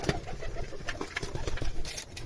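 Pigeons coo in a loft kept by a breeder, soft repeated throaty calls rising and falling close by, with scattered rustling and fluttering under them and no talk.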